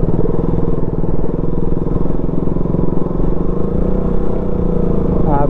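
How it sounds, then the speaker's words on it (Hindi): A motorcycle ridden at roughly 45 to 55 km/h roars with a loud, steady engine drone and constant wind rush throughout, close to the rider. "हमारी बाइक है वो पता नहीं हम कितनी भगा रहे"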